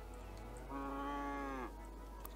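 A single cow moos once in the video game Cities: Skylines, a clear drawn-out low call lasting about a second over a faint steady hum.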